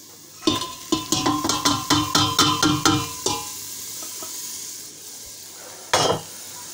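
Mincemeat fries in a pan for spaghetti bolognese while a utensil scrapes and knocks against the pan in a quick, regular rhythm over a soft sizzle, then stops, with one last clatter near the end.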